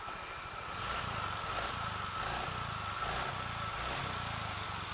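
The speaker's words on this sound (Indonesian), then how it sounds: "Motornya sudah hidup, tapi suaranya sedikit kasar teman-teman." A motorcycle engine, just started after the bike fell into a fish pond, idles roughly and steadily up close, its uneven low chugging continuing throughout with no talk.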